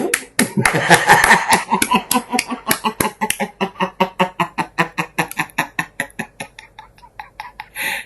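One person's hands clap in a steady, fairly quick rhythm, close and loud, at a lively Indonesian gathering joking about Saudi hajj guards. Laughter and voices crowd the opening seconds, then the beat carries on alone and slows a little.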